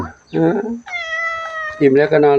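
A cat meows close by in a few short, clear, drawn-out cries with brief pauses between them.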